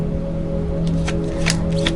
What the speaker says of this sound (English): I would shuffle. The cards are sticky. Having a hard time to shuffle.